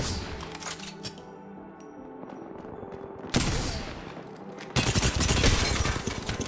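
Rapid bursts of Spitfire light machine gun fire in the Apex Legends battle royale, sustained automatic shots that swell louder and denser in the second half, close and continuous with no talk over them.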